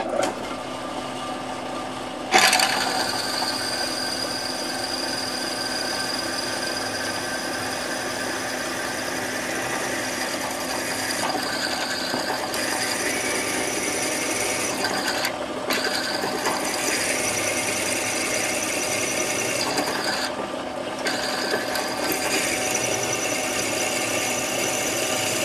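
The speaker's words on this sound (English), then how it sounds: "So we're going to go ahead and ream the hole here." A reamer cuts a hole in an AK rifle barrel, giving a steady grinding, whirring mechanical sound with a sharp start, held close and loud for the whole stretch with brief dips, and no talking.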